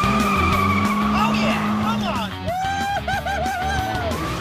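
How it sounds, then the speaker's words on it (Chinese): A 1990s Toyota Supra MK4 with a 3-litre twin-turbo inline six skids to a sudden hard-braking stop, its tires squealing loudly over a droning engine, while music and a narrating voice carry on over the top. "最后一个急刹停在2人面前"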